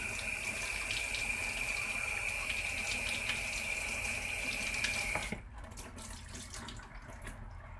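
A tap runs steadily into a sink while watercolor brushes are rinsed, a constant close hiss of flowing water that stops abruptly near the end, leaving quiet room sound.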